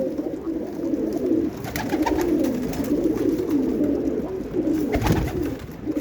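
Pigeons cooing steadily, a low rolling murmur that carries through the whole stretch, close and fairly loud, with a few faint clicks and flutters over it and no speech.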